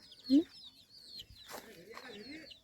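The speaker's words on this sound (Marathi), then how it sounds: "हे बघ कोंबड्या कलरवाल्या" Colourful hens clucking close by on a dairy farm, with a short loud cluck near the start and a busy run of clucks and bird calls over farmyard background.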